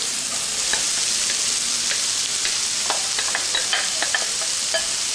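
Onion and peppers for a chicken quiche fry in a pan with a constant hissing sizzle, broken by light stirring scrapes and pops close up. No one speaks.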